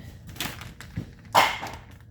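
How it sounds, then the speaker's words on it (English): Dogs in a home kitchen bark and yip in the background, a few short, muffled barks spaced out over two seconds, one louder near the end. "Y'all hear my doggies in the background?"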